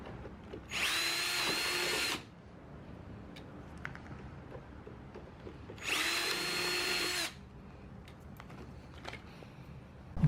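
Two bursts of a high-pitched power drill whine as it drills metal on a truck topper rear window frame, each lasting about a second and a half, separated by a quiet pause.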